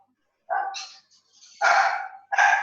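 A dog barks three times, close and loud, each bark sharp and separated by short silences.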